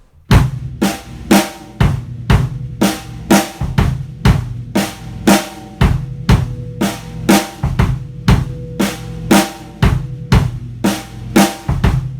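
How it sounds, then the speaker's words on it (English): A steady drum groove, with crisp hi-hat and snare hits and punchy bass drum notes, including an extra kick just after the fourth beat, played loud and alone. "This time it'll be on the bass drum just after beat 4."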